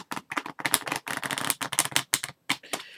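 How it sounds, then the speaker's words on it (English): Rapid bursts of cards riffling and flicking, several quick shuffles separated by short pauses, close and crisp. "He proceeded to shuffle the cards."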